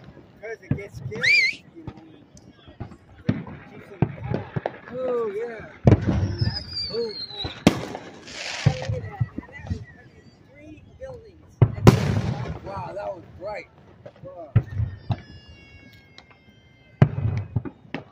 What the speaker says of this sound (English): Explode one color and at the end of their explosion they're another color.